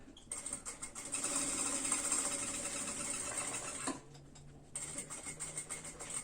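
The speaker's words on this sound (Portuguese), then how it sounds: "E eu vou passar uma costura aqui pra fechar o bolso." A sewing machine runs steadily, stitching a seam to close a pocket on a baby stroller bag. The whirring holds loud and even, stops briefly near the fourth second, then starts again for the final stretch.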